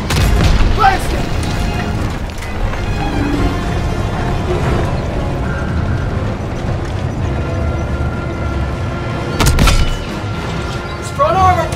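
In the Call of Duty WWII game, a tank cannon booms amid a dense, continuous roar of battle, with shouting voices over the din and another heavy blast near the end.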